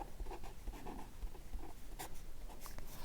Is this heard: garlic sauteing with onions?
no